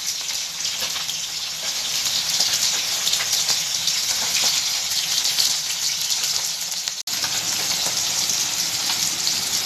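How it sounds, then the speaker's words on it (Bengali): Onions and chilies fry in hot oil in a pan, a loud, dense, continuous sizzle with a crackling spatter that stays close and steady, broken only by one brief drop-out near the end. "আমি এখানে পেঁয়াজ মরিচ ভাজতে দিয়ে"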